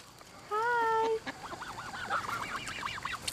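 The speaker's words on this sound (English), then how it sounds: "This little duck's like, hey, I'm hungry." Geese and ducks call at a bird sanctuary, with one loud drawn-out honk up close, then a run of quicker wavering quacks and calls that continue under faint background noise.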